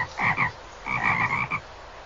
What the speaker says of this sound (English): Listen to those frogs croaking.